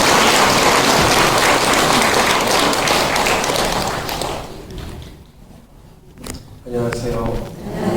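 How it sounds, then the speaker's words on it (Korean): A church audience in a parish hall claps warmly to welcome a priest, loud dense applause for about four seconds that fades out, followed by thumps and a voice near the end. "뜨거운 박수로 신부님을 환영해 주시기 바랍니다."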